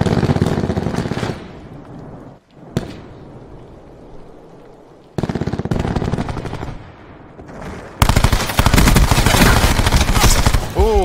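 Rapid automatic bursts from a Cordite PDW in Black Ops 4 come loud and close, with several quick strings of shots broken by short pauses and a dense, heavy final volley.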